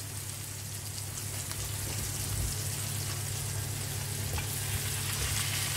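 Chicken for afritada fries with sautéed onion and garlic, a steady close sizzling hiss with faint crackles and a low hum underneath, no voices.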